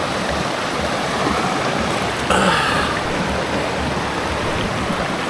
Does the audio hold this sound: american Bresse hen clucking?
no